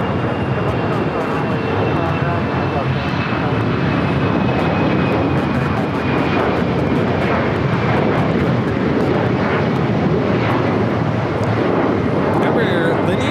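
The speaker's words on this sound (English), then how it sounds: "Lineage 1000 taking off to Las Vegas" An Embraer Lineage 1000 jet takes off from LAX toward Las Vegas, a loud sustained roar of jet engines with a whining tone, close and continuous throughout.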